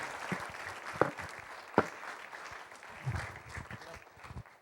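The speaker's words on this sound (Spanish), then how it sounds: "we give the Lord a round of applause?" A church congregation gives scattered, fairly quiet applause during a bilingual service, the claps loose and uneven with a few sharper single claps and some voices mixed in.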